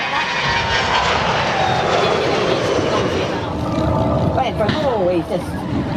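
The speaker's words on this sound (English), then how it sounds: "Both jets performed impressive flybys and maneuvers during the event." Airbus A319 and Fokker 100 jets flying by at an air show, a loud continuous engine roar with a shifting whine as they pass, with a voice talking over it.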